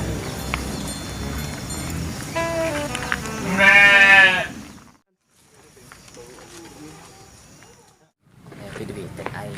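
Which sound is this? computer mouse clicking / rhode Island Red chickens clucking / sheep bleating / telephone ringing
sheep bleating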